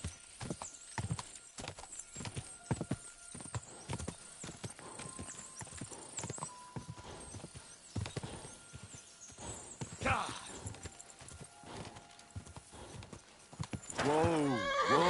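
Steady clip-clop of horse hooves while riding in Kingdom Come: Deliverance II, a continuous walking rhythm heard close, with a brief whinny and some talk near the end.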